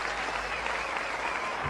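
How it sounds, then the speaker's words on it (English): A congregation at a church event gives a round of applause, a dense, steady wash of many hands clapping at moderate volume for a brief stretch. "you can do better with a round of applause"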